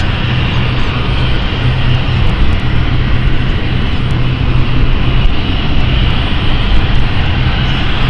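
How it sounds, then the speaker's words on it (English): An aircraft engine roars steadily and loudly at London City Airport, a continuous broadband drone holding at the same level throughout, close by and with no talking over it. "what is the aircraft that we can hear?"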